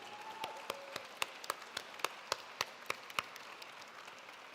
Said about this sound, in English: I would like you to just give one big round of applause to all the work that is being done